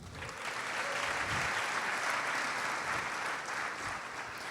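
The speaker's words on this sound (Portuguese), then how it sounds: "Aplausos para o Lucas, gente." Steady applause from an audience clapping for Lucas, a dense, even wash of hands that swells slightly and holds throughout.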